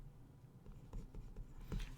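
Handwriting a statistics conclusion, producing brief soft scratches and taps of a pen on paper in a quiet room.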